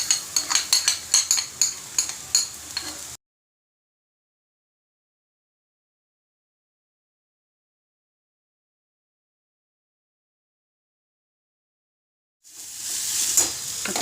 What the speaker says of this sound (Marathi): हे बघा, कांदा छान परतला. आता आपण त्यात वाटण घालूया.